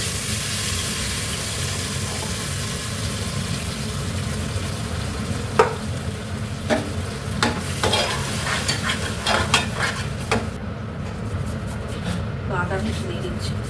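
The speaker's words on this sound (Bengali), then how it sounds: "এবার এটা একটু ভেজে নেব।" Green peas frying in a kadai with a tempering of dry red chili and cumin, steady sizzling with occasional stirring clatter of a spatula toward the middle, continuous and close.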